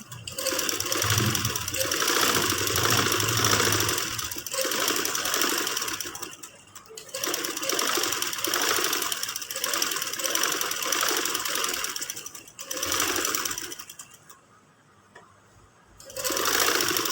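A sewing machine stitches trousers in long, steady whirring runs broken by short pauses, loud and close, with no voices.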